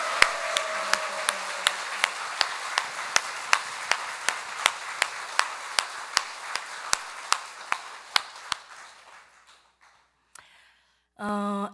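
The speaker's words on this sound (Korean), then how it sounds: "우리가 기도를 박수로서, 뜨겁게 박수로서 주님 앞에 이분을 지켜주시라고 기도하겠습니다." Congregation in a Catholic church clapping in slow unison, sharp evenly spaced claps that gradually fade and stop, followed by a brief burst of music near the end.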